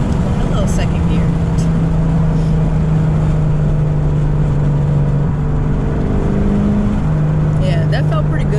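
A Ford Mustang accelerating in second gear, its engine droning loud and steady close by, with the pitch rising and then falling back once through the run.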